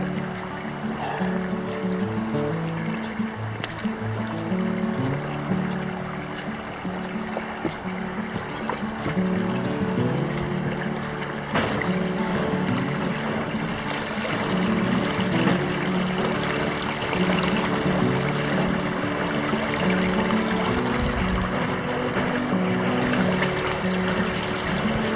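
A high stream in Whitewater State Park, Minnesota, swollen after heavy rain, rushes and gurgles continuously close by, a steady broadband flow mixed with low engine-like rumbling and trail noise, no talking.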